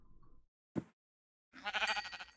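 In Minecraft, a sheep gives a couple of short bleats, a quick clipped cry followed by a longer wavering one after a pause, fairly close and clear with no speech.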